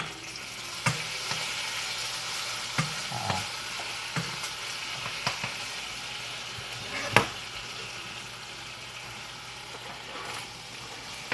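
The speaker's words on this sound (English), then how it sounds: "Putting all the vegetables in." Vegetables stir-frying in oil in a wok for a rice noodle and pepper dish: a steady broadband sizzle throughout, broken by scattered sharp clicks and knocks of utensils against the pan, close and fairly quiet.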